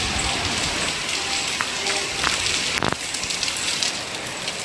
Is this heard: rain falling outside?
yes